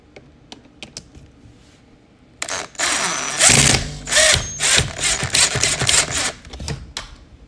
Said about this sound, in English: We can put the drill on them.